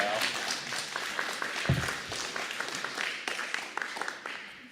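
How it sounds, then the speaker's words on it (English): Audience at a public consultation on the Lands Protection Act in Crapaud clapping in a dense, steady round of applause that fills the room, with a few sharper claps standing out. "I might be pleased with that round of applause"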